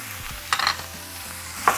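Ground beef and sausage sizzle in a hot pan, with a couple of short bursts of stirring and scraping over a low steady frying hiss, close and alone without talk.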